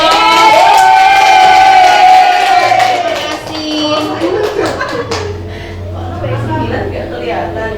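A school audience in a positive-culture practice session breaks into loud cheering and shouting with scattered clapping, a crowd of young voices swelling and then fading as people keep chattering.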